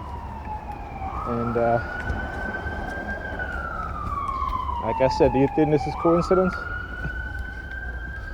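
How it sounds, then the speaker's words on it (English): Emergency vehicle sirens outside an apartment building wail in a long rising and falling sweep, with a burst of rapid yelp pulses midway, fairly near and loud over traffic rumble while someone talks over them. "you guys hear the sirens again"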